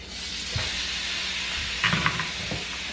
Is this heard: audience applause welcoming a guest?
no